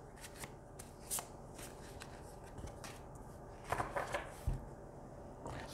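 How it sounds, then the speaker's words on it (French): Tarot cards are shuffled and drawn in soft, close rustling riffles with light papery clicks, quiet and without speech. "Et je vais venir prendre également une carte du tarot, comme j'aime bien en ce moment."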